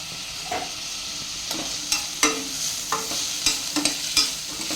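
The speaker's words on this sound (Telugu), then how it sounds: "మంచిగా వేగనివ్వాలి." Onions frying in a pan with salt and turmeric, a soft steady sizzle broken by several sharp scraping stirs of a spoon, close and moderately quiet with no talking.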